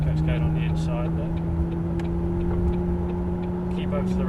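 McLaren engine holding a steady droning hum at constant speed on a racetrack, heard from inside the car beneath an instructor's voice giving directions.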